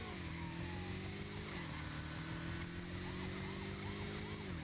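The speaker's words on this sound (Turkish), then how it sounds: "Polis arabası bizi mahvedecek bence." Police car siren from the video game Midtown Madness wails steadily with rising and falling tones over constant engine drone, loud and continuous throughout.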